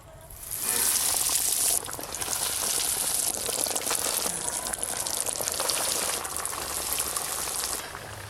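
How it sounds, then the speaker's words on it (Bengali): Jackfruit cutlets frying in hot white oil give a loud, dense, continuous sizzle and bubbling that starts abruptly and holds steady for several seconds, heard close to the pan. "এবার ভাজা শুরু করে নেব"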